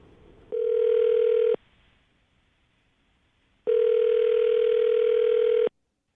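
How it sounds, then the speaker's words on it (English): A telephone handset gives two long, steady electronic tones separated by a short pause, loud and close, each lasting over a second, like a ringback or dial signal when a call goes out. "I'm going to dial her phone number right now, okay?"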